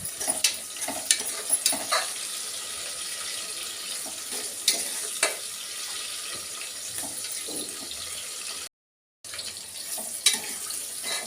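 Onions frying in a pot for chicken biryani, a steady close sizzle and hiss with scattered stirring scrapes and clinks throughout, briefly cutting out near the end.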